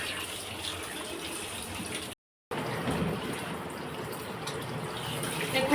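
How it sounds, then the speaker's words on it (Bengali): Tap water runs steadily into a sink while catla fish is washed, a close continuous rush of splashing with one brief gap. "দেখুন, আমার মাছটা ধোয়া হয়ে গেছে"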